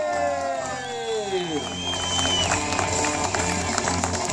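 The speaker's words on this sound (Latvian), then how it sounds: "Aplausi!" Crowd applause and cheering at an award ceremony for a rally stage event, a continuous wash of clapping alongside a descending musical tone at the start, with voices mixed in.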